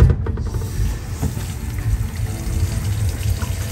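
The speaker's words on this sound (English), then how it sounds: "it's coming out of the faucet" Water gushes steadily from a faucet, a low rushing stream with a sputter at the start, close and fairly loud throughout.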